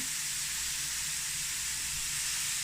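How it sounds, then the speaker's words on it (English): Burger patties sizzling on a hot griddle make a steady, broad frying hiss that fills the whole stretch evenly, close and fairly loud, with no voices over it. "I'm just gonna press down on my burgers just a little bit, just to make sure that all of my surface area has contact with the hot griddle"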